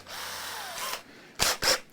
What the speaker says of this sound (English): Drill first, a bit of plastic next.